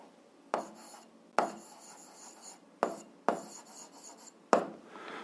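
Handwriting on paper while setting up a 7th-grade algebra word problem, with five crisp strokes, each a sharp tap trailing into a soft scratch, close and quiet with no voices.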